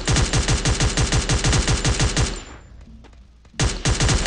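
Rapid automatic gunfire in the Garena Free Fire mobile shooter, loud bursts of repeated shots for over two seconds, a short lull, then firing resumes abruptly near the end.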